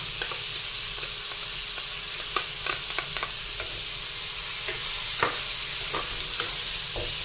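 Red and white onion sautéing in a pan with browned garlic while preparing ginisang bagoong alamang, a steady close sizzle broken by irregular scraping stirs.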